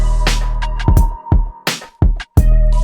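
Boom bap drum pattern programmed in FL Studio with stock plugins, heard dry and unprocessed: punchy kicks and cracking snares hit loud and close in a steady hip-hop rhythm, with no talking.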